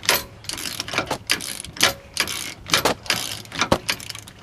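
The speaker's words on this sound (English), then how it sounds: "holding top with a 16 while ratcheting on the bottom with a 15" Ratchet clicking on a 15mm socket, loosening the lower nut of a sway bar end link on a 2000 Ford Explorer 4.6L, in repeated short bursts of rapid pawl clicks with brief pauses, close and fairly loud.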